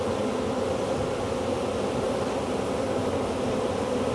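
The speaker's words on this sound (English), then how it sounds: "there goes 2 bees" Bees buzz steadily around a cluster of three beehives, a dense, continuous hum holding even and close throughout with no pauses.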